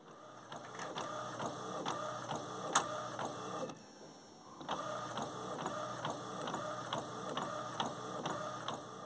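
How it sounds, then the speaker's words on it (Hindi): An Epson inkjet printer producing a non-mirror printout, its print head shuttling back and forth in a steady, rhythmic whir with a brief pause midway before resuming, faint and close, with no talking. "ये देखिए दोस्तों, हम लोगों का प्रिंट आउट जो है निकल चुका है।"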